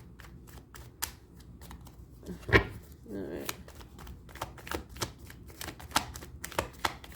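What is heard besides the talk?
shuffling a deck of tarot cards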